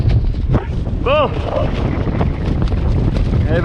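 Strong wind during a wing surfing session roars and buffets the microphone throughout, with a brief whistling tone rising and falling midway.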